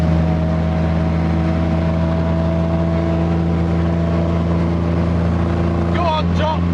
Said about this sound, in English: Hundreds of Bentleys flat out.